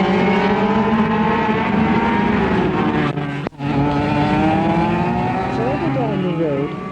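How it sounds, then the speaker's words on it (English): Miniature petrol go-kart engines race in an international Grand Prix in Hong Kong, 1978, a loud continuous buzzing drone with a brief dip, then rising and falling pitch sweeps as karts pass close by. "the roar of miniature petrol engines taking part in an international go-kart Grand Prix"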